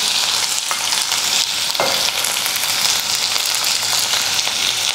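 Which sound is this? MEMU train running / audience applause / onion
onion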